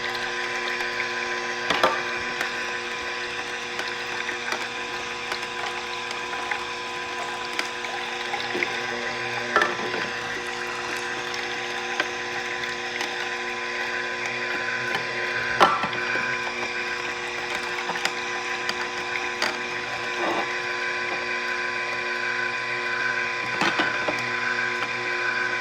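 An Omega NC900HDC masticating juicer grinds fruits and vegetables in a steady mechanical whir, with repeated sharper cracks and snaps as pieces are crushed, heard close and alone.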